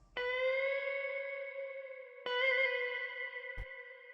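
Electric guitar riff from the Russian River archtop preset in FL Studio: two clean, sustained notes ringing out with chorus and echo, the second entering after a pause, followed by a short low thump.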